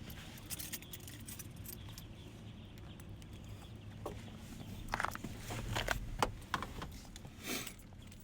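Keys jangle close by in short metallic bursts over a steady low rumble, while someone searches for the keys to a 1987 Mitsubishi Lancer 1800 EX GSR with a carbureted intercooled turbo engine.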